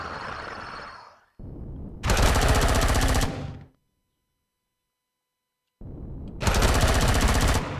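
Two long bursts of rapid automatic gunfire ring out loud and close in the sci-fi survival game Empyrion Galactic Survival, each preceded by a shorter rattle and separated by a brief silence.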